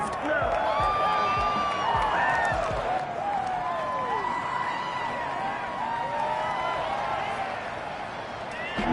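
Stadium crowd cheering and applauding in a Madden NFL football video game ahead of a big third down, a loud, steady roar with whistles and whoops rising throughout.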